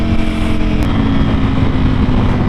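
A Ducati Panigale V4R with an Akrapovic exhaust and open dry clutch, riding at a loud, steady drone, the engine note constant and close with wind mixed in.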